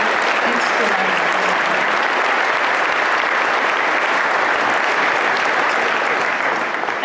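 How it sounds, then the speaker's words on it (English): An audience at an awards ceremony breaks into loud, sustained applause, a dense continuous wash of clapping that holds steady throughout and eases slightly at the close. "So please give him some applause"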